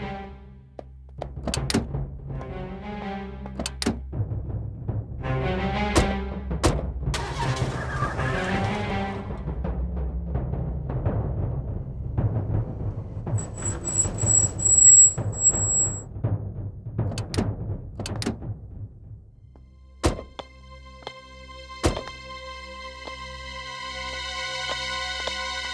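A car door thunks shut with several sharp knocks, then an engine starts and runs with a rising hum and tire noise, followed by a steady idle; no talk in between.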